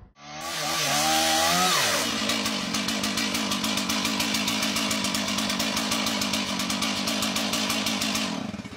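A chainsaw revs up with a rising whine, then cuts with a rapid rattling, buzzing chatter that holds loud and close for several seconds before easing off.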